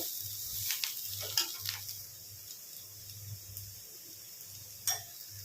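Sliced bitter gourd fries in a pan with onions and turmeric, giving a faint, steady sizzle with soft stirring scrapes and a few light clicks of a utensil against the pan.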